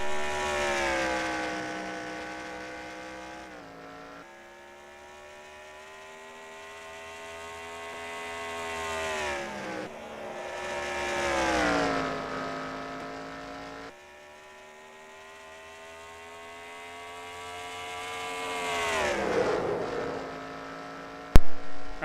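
Stock-style race cars circling North Wilkesboro in a racing game, engine notes rising and falling as the cars accelerate and lift through corners in repeated sweeps, with no talking.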